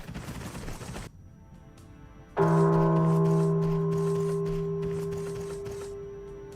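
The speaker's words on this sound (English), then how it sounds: "A bell? Where'd it come from?" A bell rings inside the Final Fantasy VII: Ever Crisis video game, one loud struck tone with sustained harmonic hum that slowly decays, following a quieter stretch of ambient noise.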